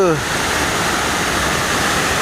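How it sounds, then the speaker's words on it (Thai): Huai Mae Khamin waterfall, the Dong Phi Suea tier, pours with a loud, steady roar of rushing water that sounds dense and close. A brief voice can be heard at the very start. "น้ำตก ชื่อดงผีเสื้อครับ"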